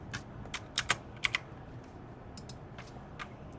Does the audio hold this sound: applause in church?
no